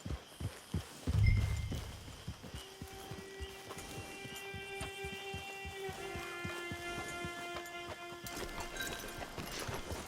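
Horse hooves clip-clop steadily in the Red Dead Redemption online game, a close, regular walking rhythm that continues throughout beneath sustained musical tones, with a brief low thump near the start.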